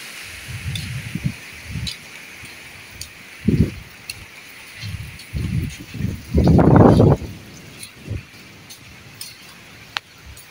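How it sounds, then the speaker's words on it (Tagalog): Strong typhoon wind gusts through leaves and trees in bursts, with one louder, longer surge of rustling in the middle and scattered clicks between gusts. "Lakas ng hangin."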